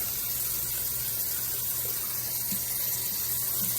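Water running steadily from a tap into a jar to rinse soaked broccoli seeds for sprouting, a continuous close splashing hiss with no talk.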